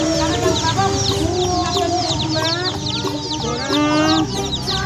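Colourful baby chicks at a market cheep in a dense, continuous chorus of high, shrill chirps, close and loud, with many birds calling over one another.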